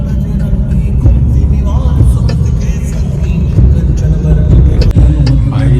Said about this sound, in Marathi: लय गर्दी लागली, ट्रॅफिक जॅम आहे चाकण शिक्रापूर रोडला